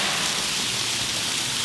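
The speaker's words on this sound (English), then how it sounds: "Probably it's a waterfall." The Hayden Falls waterfall gives a steady, broad hiss of rushing water that continues without a break, with no voices over it.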